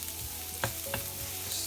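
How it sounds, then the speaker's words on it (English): Garlic stirred in hot olive oil in a pan: a soft, steady sizzle with two brief scraping stir strokes, close and quiet, no voices. "I've just got a little bit of olive oil in a pan, waiting for that to get nice and hot, and then I'm going to add in some garlic"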